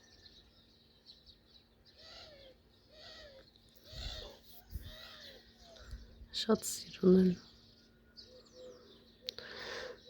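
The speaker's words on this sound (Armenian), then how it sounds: "Ծիտիկները ծլվելում են," Small birds chirp and twitter outdoors on a cold day, bright repeated calls rising through the scene while someone talks over them, with a few louder bumps midway.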